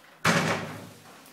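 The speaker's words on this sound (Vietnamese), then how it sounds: "Đóng cửa vào lạnh quá." A house door is shut on a cold day, making one loud, close slam with a sharp onset that fades quickly into a short decay. No one talks over it.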